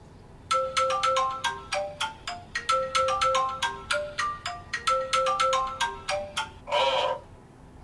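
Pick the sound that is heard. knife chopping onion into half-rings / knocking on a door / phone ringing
phone ringing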